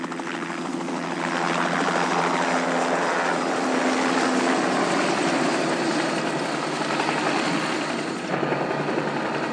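Helicopter in flight over rugged park terrain carrying sheep, a steady loud rotor and engine drone that holds continuously throughout, with no voices.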